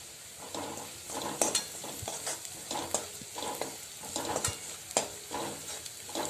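Onion, chilli and garlic sauté in a pan with turmeric and asafoetida added, a continuous close sizzle broken by repeated scraping stirs with a spoon.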